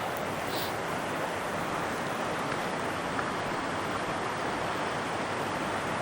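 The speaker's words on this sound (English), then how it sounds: "I'm above that big waterfall now." A waterfall on a brook trout stream in Nantahala National Forest roars as a dense, steady rush of water, loud and constant throughout with no pauses.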